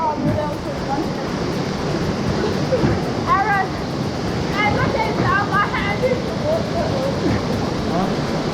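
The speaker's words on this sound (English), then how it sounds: "What a beautiful waterfall." Steady rushing water from a waterfall in Kaaimans Gorge roars continuously throughout, a broad dense wash of sound with a few faint bird calls or squeaks rising over it.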